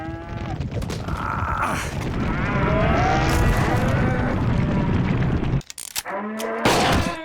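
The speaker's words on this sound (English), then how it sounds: "It's a couple of cows." Cartoon cows moo loudly and repeatedly over a busy, dense background of music and effects, with a brief drop near the end before the sound resumes.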